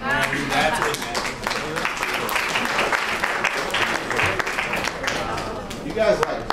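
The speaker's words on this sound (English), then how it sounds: "You guys like clapping when your time is up way too much." At a student hackathon demo session, an audience claps in a loose, uneven round while voices and chatter run over and through it.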